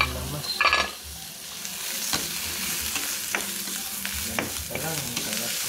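A sautéing mixture sizzles steadily in a pan while being stirred, with a brief clatter near the start and repeated spatula scrapes and taps over the frying hiss.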